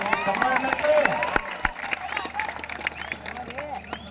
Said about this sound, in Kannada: ಒಂದ್ ಬಾರಿ ಸುಶೀಲ್ ಕಾಂಬ್ಳೇಕರ್ ಅವರಿಗೆ ಜೋರಾದ ಚಪ್ಪಾಳೆ ಬರಬೇಕಾಗ್ತದೆ.